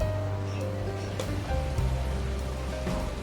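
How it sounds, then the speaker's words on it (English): Heavy rain pours steadily across the Wellington Botanic Gardens, a dense continuous wash of downpour heard close by, with a faint low hum running underneath. "Absolutely pouring again."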